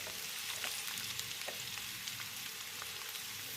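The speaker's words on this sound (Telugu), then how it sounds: "ఉల్లిగడ్డ ముక్కలు, పచ్చిమిర్చి ముక్కలు వేద్దాం. అన్నీ కలిసేలా కలుపుకుందాం." Onion and green chilli pieces frying in oil with drumstick pieces and ginger-garlic paste, a dense continuous sizzle with scattered stirring clicks, no talking.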